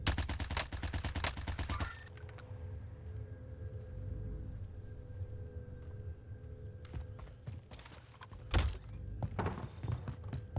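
Rapid bursts of Milano submachine gun fire in Warzone, loud and close, a dense rattling string of shots at the start, then scattered single cracks and a heavy thump later on, with no speech.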